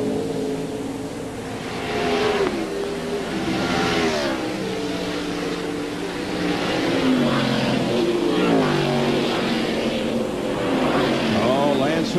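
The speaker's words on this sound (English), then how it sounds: "He's got a couple of Fords chasing him. Jeff Bodine and Rusty Wallace." NASCAR stock cars, including Fords, race at Watkins Glen in 1997, engines roaring loudly and continuously with rising and falling pitch as they pass and shift, under a commentator's talk.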